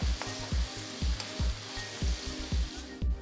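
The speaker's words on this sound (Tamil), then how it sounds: "அடுத்து 2 பெரிய வெங்காயம் பொடியை நறுக்கினது சேர்த்து நல்ல கோல்டன் ப்ரௌன் கலருக்கு வதக்குங்க." Onions fry in oil with cinnamon, bay leaf and cumin in a pan, a steady close sizzle broken by regular rhythmic thumps and scrapes of stirring.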